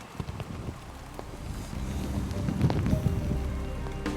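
Rain and wind at a harbor on a cold marathon morning, a steady wet hiss of rain with gusty rumbling wind throughout, fairly faint and continuous, no voices.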